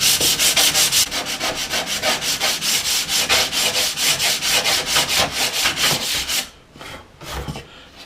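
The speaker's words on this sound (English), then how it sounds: "get it on a block of wood so that it stays flat, otherwise you lose some of the straightness in it perhaps. But then just sand it away" A steady rhythm of loud, close strokes from sanding a wood edge flat on a sanding block, about four rasping passes per second, easing into a few slower, quieter rubs at the end.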